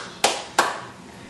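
A child claps hands twice, two sharp close claps about a third of a second apart, then quiet room tone.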